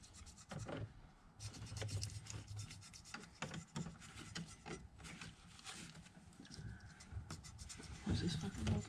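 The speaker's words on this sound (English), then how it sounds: "It just kind of bakes it on, so you gotta scrape off anything that's" Baked-on rubber gasket material being scraped off the thermostat housing of a 2011 Duramax 6.6L LML diesel, a steady, close rasping and scratching with short strokes throughout.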